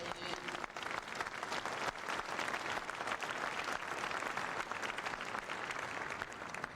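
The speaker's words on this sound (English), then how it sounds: "that applause was led by Tom Cochran" A convention audience at the 1988 Democratic National Convention in Atlanta breaks into steady, dense applause from a large hall crowd, sustained throughout at a fairly distant, even level.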